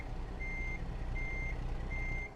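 A heavy truck in American Truck Simulator backs up, its reversing alarm giving three evenly spaced steady beeps over a low diesel engine rumble, no talk.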